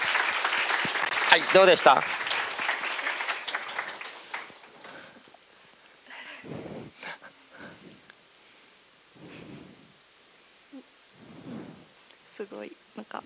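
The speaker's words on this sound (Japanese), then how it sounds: "拍手お願いします。" Audience applause at a seminar, a dense broadband clatter for the first few seconds that fades out, followed by scattered talk from people in the room.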